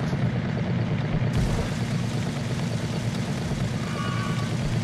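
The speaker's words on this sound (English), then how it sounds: "There's something wrong with my vehicle. Doesn't sound too good." A faulty vehicle engine in the DayZ video game, with a flat tyre and failing steering, producing a steady, loud, rough drone that runs unbroken throughout.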